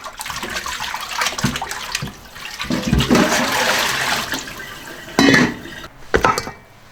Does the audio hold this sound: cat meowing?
no